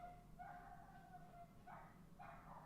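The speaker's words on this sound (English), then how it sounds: "Now my neighbor's dog is getting very angry." A neighbor's dog barks in the distance, three short, faint barks, the last two close together, under a quiet room hum, with no talking.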